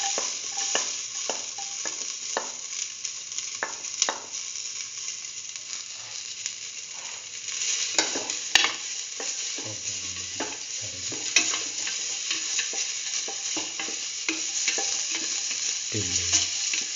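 Onion pieces sizzle steadily in a hot pan while a utensil scrapes and stirs at irregular intervals, with a few duller knocks against the pan.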